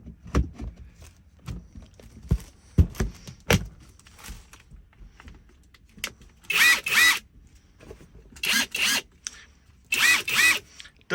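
A well-used Harbor Freight Bauer brushless 1/2-inch impact wrench gives three short, loud bursts of high-pitched whirring after a few earlier clicks and handling knocks. It sounds close up.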